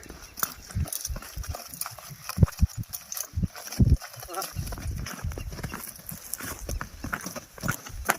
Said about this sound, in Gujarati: હવે આપણે ઘોડી ઝાડ કરવાનું છે.